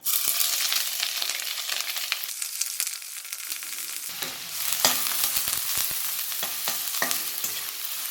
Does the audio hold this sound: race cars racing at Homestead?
no